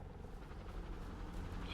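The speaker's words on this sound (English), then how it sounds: "Is that a helicopter?" A helicopter in the video game Firewatch drones steadily overhead, a continuous low rumbling whir that holds at a faint, distant level throughout with no talking.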